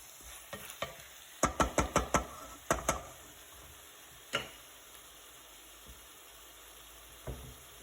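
A meatball and pea tagine being stirred, a series of quick clinking scrapes of a utensil against the pot in a short burst followed by a few isolated knocks, over a faint steady background hum.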